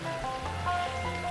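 Kitchen tap water pouring into a sink beside an InSinkErator disposer, a steady close splashing rush with a faint tonal hum underneath, brief and even in level.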